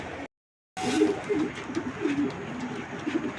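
Racer pigeons cooing close by in a series of soft, low, throaty coos repeating after a brief silent gap.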